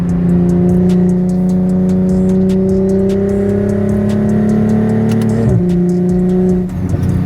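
A single-turbo BMW M340i engine on a dyno holds a loud, steady high-revving drone with strong harmonic tones, then briefly dips and recovers near the end.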